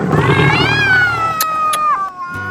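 A kitten and an older cat meeting for the first time: one long, loud, drawn-out meow that slides downward, heard close and alone, with a brief rustle near the end.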